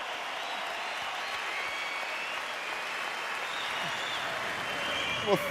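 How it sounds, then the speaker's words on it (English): Sustained applause fills a lecture hall, a continuous even wash of many hands clapping at moderate loudness for several seconds, steady throughout with a single sharper sound just before the end. "thank you very much for that long applause"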